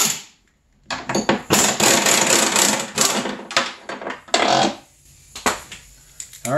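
Loosening 9/16 nuts and bolts on the track suspension of a 2002 Arctic Cat ZR 600 EFI snowmobile: close, loud bursts of metallic tool rattling and clanking in irregular spurts separated by short pauses.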